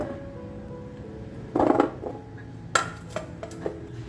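Cut pieces of sweet potato are dropped into a metal vessel, making a clattering burst followed by a few sharper clinks and taps close by, with quiet pauses between them.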